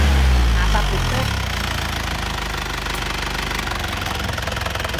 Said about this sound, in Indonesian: Mesin tak halus karena asap bistik.